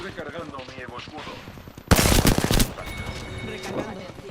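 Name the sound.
machine gun fire in a video game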